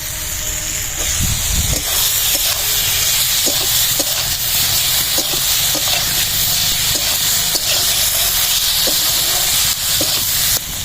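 Pointed gourd (potol) hits a hot oiled pan and sizzles and hisses steadily with steam, loud and close, with soft scraping stirs of a spoon now and then.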